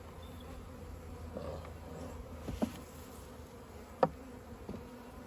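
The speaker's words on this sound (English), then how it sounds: "I noticed there's a lot of bees at that little nook" Honey bees buzz faintly around a small nook at a hive entrance, a soft continuous hum with a few louder close passes as individual insects fly by.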